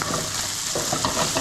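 Lamb pieces crisp in a hot pan with a steady, close sizzle, soft stirring clatter breaking through now and then over about a second and a half.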